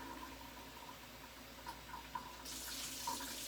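Tap water running steadily into a measuring container for sourdough bread dough, a soft continuous trickle with faint splashes that grows brighter and fuller near the end.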